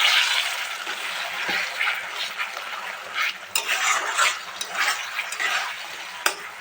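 Spice paste for a rui fish curry sautés in oil, a steady sizzle with scraping stirs and occasional clicks of a utensil against the pan, close and without talk.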